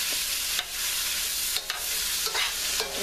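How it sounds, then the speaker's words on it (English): Tofu sizzles and spatters in a hot pan for a vegan gochujang stir fry, with a steady loud frying hiss and a few distinct scraping stirs breaking through, and no voices. "I'm going to add my tofu back to the pan"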